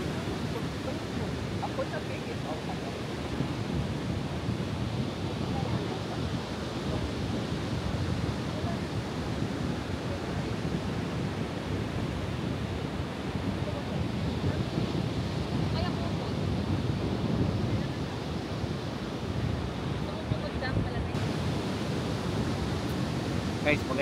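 A steady, rushing roar of surf and gusting wind on a sandy beach, continuous and fairly even throughout with no clear individual waves.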